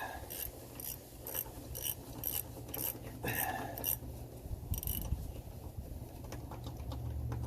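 A ratchet wrench turns out the relief valve on a 2003 Dodge Cummins, giving repeated bursts of crisp, close clicking in short strokes with brief pauses between them, over a low steady hum.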